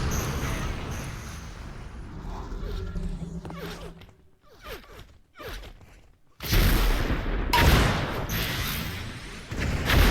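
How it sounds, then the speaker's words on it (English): Gunfire in the video game Unreal Tournament 4 during a competitive elimination league match: sharp bursts of shots and crackling weapon fire, dense at first, then broken by quieter gaps before loud, continuous firing returns. "Crytek and Fantasy trading shots at the start of this round"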